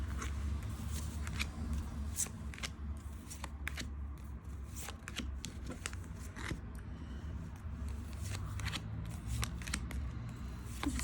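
Tarot cards are handled and flicked through in a deck, producing soft, irregular papery riffles and snaps at close range over low room noise, with no talking.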